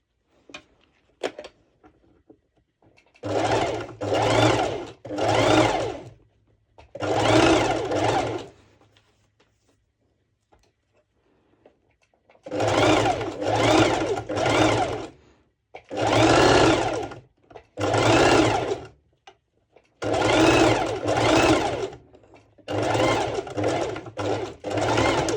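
A sewing machine stitches the side seams of a two-colour sporty top with adjustable straps, running in repeated loud bursts of a second or so, grouped in short runs separated by pauses, close up and with no talk.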